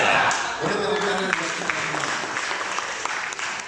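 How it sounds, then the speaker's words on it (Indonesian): An audience at an Indonesian government ministry outreach session on COVID-19 gives a short burst of applause, a loud, dense wash of clapping lasting a few seconds with voices mixed in. "Boleh tepuk tangan."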